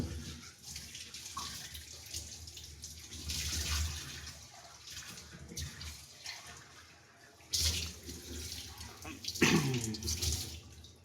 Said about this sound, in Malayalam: കൈ കഴുകാൻ പോകുന്ന